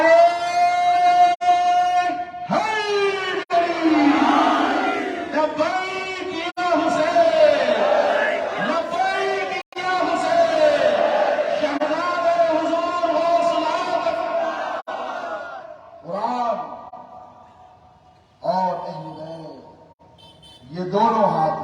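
A large crowd at a religious conference in Hyderabad chants slogans loudly in unison, with repeated call-and-response waves of voices that rise and fall, then fade into short, separate shouts.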